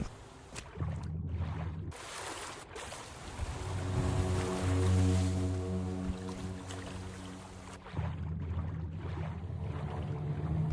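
Water and waves in the video game Tainted Grail: The Fall of Avalon, a steady wash of lapping water and surf with a low droning tone swelling in the middle, fairly quiet, no talk.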